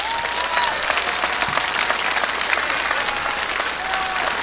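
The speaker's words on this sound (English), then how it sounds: "let's give them a round of applause" Steady applause from a sizable crowd at a high school commencement ceremony, dense clapping that holds evenly from start to finish with no voices standing out.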